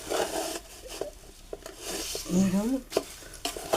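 Poha chivda is stirred in a pan for Diwali, with dry rasping scrapes and light clinks of a spoon against the pan, close and fairly loud, with brief talk.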